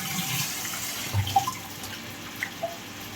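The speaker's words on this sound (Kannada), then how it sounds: "ಇದನ್ನು ನಾನು ಇನ್ನೂ ವಾಶ್ ಮಾಡಿಲ್ಲ, ಈಗ ವಾಶ್ ಮಾಡೋಣ. ಸ್ವಲ್ಪ ನೀರು ಹಾಕಿ" Water from a tap running briefly over dry fish in a kitchen sink, a soft steady trickle with a few small splashes and drips, close and fairly quiet, with no talking.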